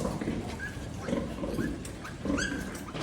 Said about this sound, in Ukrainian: Ось ми свиноматка спокійно пороситься, ніхто її не заважає.